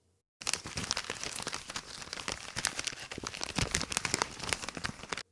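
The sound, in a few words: crumpling paper to imitate fire crackling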